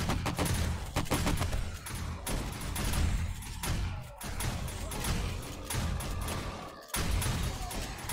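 Shotgun turret in 7 Days to Die blasting rapid, overlapping booms into a concrete block during a horde night, a loud, dense volley of shots with almost no pause.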